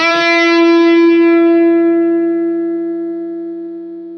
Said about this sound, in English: So if I just play a note here, the gate is on, so it'll open up, let the note through, and then close up when it thinks it should.